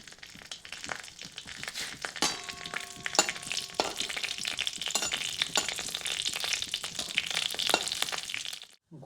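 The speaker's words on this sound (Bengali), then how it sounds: "গোটা জিরা শুকনো লঙ্কাটা ভাজা হয়ে গেলে" Whole cumin seeds and dried red chillies spit and crackle in hot mustard oil in a wok, a moderately soft sizzle broken by sharp pops and scraping stirs throughout, cutting off abruptly at the end.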